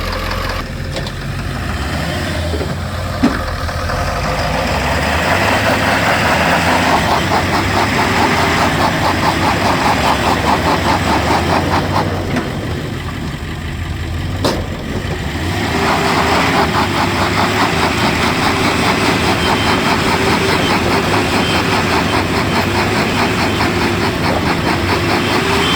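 A vehicle engine runs steadily at a low, heavy idle-like drone while hauling a submarine on its trailer up out of White Swan Lake, loud and continuous for the whole stretch with only brief dips.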